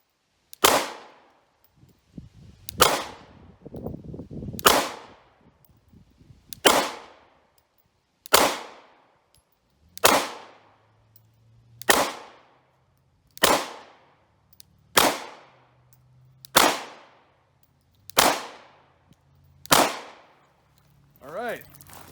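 A Glock 45 pistol fires about ten sharp, loud single shots at an outdoor shooting range, spaced roughly two seconds apart, each with a short echoing decay.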